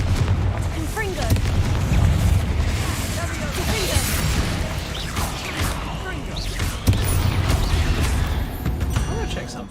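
Confringo fire spells burst in the Hogwarts Legacy video game, a run of heavy booming blasts over a rumbling, crackling bed that never lets up.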